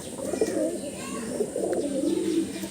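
Pigeons brought from Andhra Pradesh coo in a loft, with a steady stream of low, rolling coos that overlap and carry on for the whole stretch. There is no speech.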